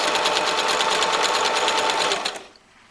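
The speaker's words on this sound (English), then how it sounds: "I'm literally going through right now and just chain stitching every single one" Sewing machine chain stitching fabric strips for a fitted crib cover, a fast steady rattling run of stitches at close range that stops abruptly near the end.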